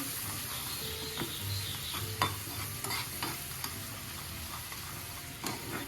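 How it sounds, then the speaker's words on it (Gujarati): Spices for a dal tempering sautéed in a pan, a steady low sizzle broken by occasional spatula scrapes and light taps against the metal, close and fairly quiet with no voices. "મસાલાને આપણે 1 થી 2 મિનિટ માટે એકદમ સરસ રીતે સાંતળી લઈશું."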